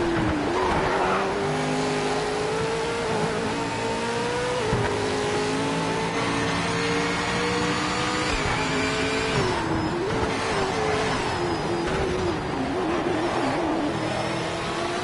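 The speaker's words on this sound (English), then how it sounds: "They really did get the sound of the V8 Supercars right in this game." Loud V8 Supercar engines scream and rev continuously, shifting pitch through gear changes, with tyre squeal at times; Ford versus Holden race in the game Project Motor Racing, with no speech.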